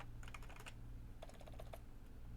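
Keys clatter on a computer keyboard in two short bursts of quick taps, faint and close, over a steady low hum.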